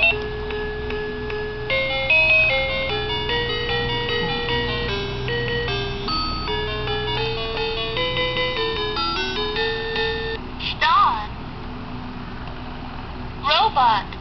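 A talking book toy plays a string of bright electronic melodies in thin, beepy tones, with a couple of short chirpy sound effects near the end.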